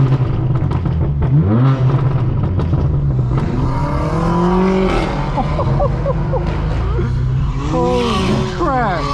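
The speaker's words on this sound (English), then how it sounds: "This E92 M3 sounds phenomenal," A BMW E92 M3 engine accelerates on the road in repeated pulls, its revs climbing loud and close while someone talks over it.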